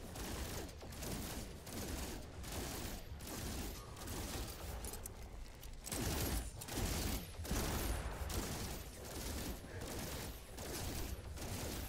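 Sustained rapid gunfire from the video game No Man's Sky, dense and loud bursts continuing throughout with little pause.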